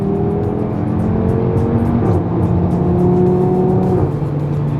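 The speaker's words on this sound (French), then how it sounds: "Et la voiture crépite au passage de rapport, au lâcher de pied, au rétrogradage aussi." Audi RS3 8V with its 2.5-litre turbocharged five-cylinder, held around 3000 rpm with exhaust valves open, gives a loud, close, steady burbling drone whose pitch shifts slightly as the revs change.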